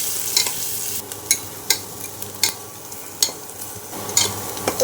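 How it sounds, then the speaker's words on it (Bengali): Chopped onions fry in a pan as a spatula stirs them, with a soft sizzle underneath and about a dozen crisp scraping strokes at an uneven rhythm, close and clear with no talking. "তো পেঁয়াজটা আমি এখানে 2-4 মিনিট একটু নাড়াচাড়া করে নিয়েছি"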